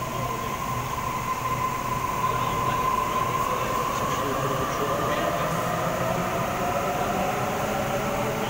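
A train pulling away from a Sydney station platform, a loud continuous rumble of wheels and motors with a rising electric whine and faint speech mixed in.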